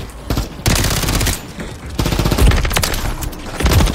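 Rapid bursts of automatic gunfire from a Call of Duty Rebirth Island match rattle loudly in dense, overlapping volleys with short gaps, close and continuous, with a faint voice barely present.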